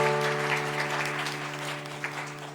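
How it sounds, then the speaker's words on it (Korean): Congregation applause during a Sunday church worship service, dense and steady throughout, over sustained low tones from an instrument. "뜨거운 박수로 격려하겠습니다."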